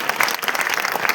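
Crowd applause at a BJP political rally, a short burst of brisk, dense clapping, loud and close.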